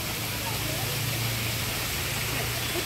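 A waterfall at Lonavala near Pune pours on a cloudy day, giving a steady, dense rushing roar of falling water with no break.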